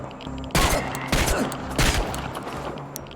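Gunfire in the game Chernobylite: three loud, close bursts of shots, each roughly half a second long, ringing over a low steady background.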